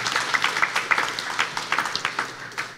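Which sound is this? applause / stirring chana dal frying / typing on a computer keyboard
applause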